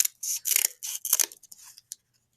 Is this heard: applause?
no